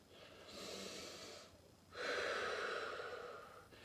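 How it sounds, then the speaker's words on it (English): Two deep breaths drawn and released during a box breathing exercise, slow airy inhale and exhale, close and soft, the second breath louder, no speech. "start with a couple nice big deep breaths"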